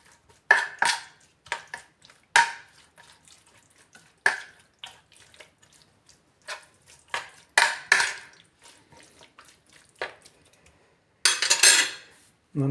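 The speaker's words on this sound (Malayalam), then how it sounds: "ആദ്യം കുറച്ച് മഞ്ഞൾപ്പൊടി, മുളക് പൊടി, ഉപ്പ് നന്നായി മിക്സ് ചെയ്തെടുക്കാം" Clinks and scrapes of a utensil against a bowl as chicken is mixed with turmeric, chili powder and salt, coming in short separate bursts with quiet gaps and a brief rush of water near the end.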